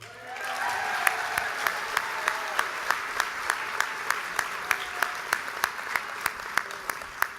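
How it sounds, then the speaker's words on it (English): Continuous audience applause at a leadership graduation ceremony, steady and moderately loud, with a few individual claps standing out at a regular rhythm above the dense wash. "One more round of applause, please, for all of them."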